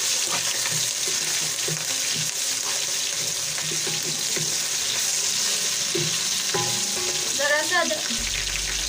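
Cumin, ginger and garlic sizzle steadily in hot oil for matar pulao, a constant crackling fry with occasional stirring and clinks near the end, while a voice speaks briefly.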